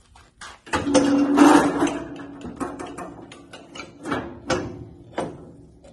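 A tire changer machine mounting a new tire onto a wheel from a 1994 Mustang or a police car, giving a whirring motor with rapid mechanical clicking and ratcheting, then a series of spaced clunks as it slows.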